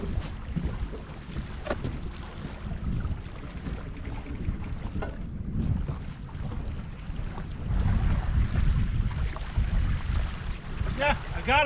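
Wind gusts over a lake around a fishing boat during winter catfishing on Watts Bar, a steady low rumble of buffeting wind noise that swells louder toward the end.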